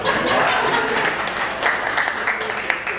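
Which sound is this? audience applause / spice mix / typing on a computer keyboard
audience applause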